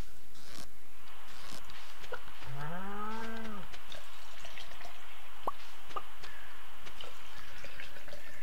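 A single cow in the farming video game Stardew Valley gives one clear, rising-and-falling moo, set among quiet clicks and small drip-like game sounds in a calm backdrop.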